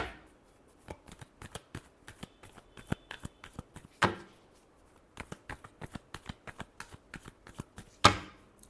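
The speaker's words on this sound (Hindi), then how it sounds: "last shuffle" Tarot cards shuffled by hand, a run of soft, quick riffling flicks and taps in irregular clusters close by, with two sharper snaps standing out.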